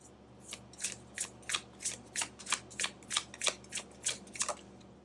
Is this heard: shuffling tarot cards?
yes